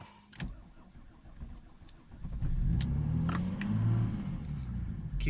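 A Mercedes OM603 diesel engine cold-starts on waste vegetable oil: brief cranking clatter, then it catches and settles into a rough, rising rumble as the revs are held up, close by, with no speech.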